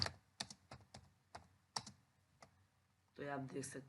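Keystrokes on a computer keyboard while entering text in InPage software, sounding as a series of distinct close clicks at an uneven pace, followed by a short burst of brief speech.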